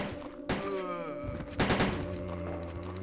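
Gunfire in the 1998 Resident Evil 2 video game, with sharp blasts in quick succession over a droning game soundtrack, loud and close.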